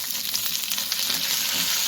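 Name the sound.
mustard seeds popping in hot oil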